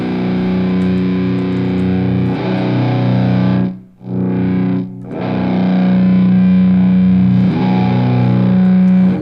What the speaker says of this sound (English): this Mesa Boogie is so distorted